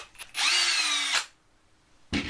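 A power drill runs for close to a second removing the pulley cover during a B-series motor replacement, a loud steady whir with a brief start and stop, followed by a short clunk at the end.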